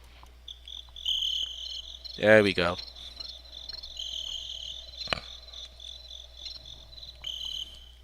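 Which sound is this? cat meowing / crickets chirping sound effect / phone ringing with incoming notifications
crickets chirping sound effect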